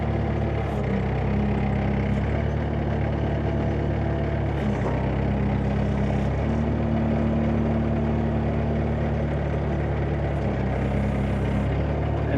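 A Flip Screen S-30 gravel screener runs, lifted and tilted forward, its loud, steady engine drone holding throughout, with a low hum that shifts pitch now and then.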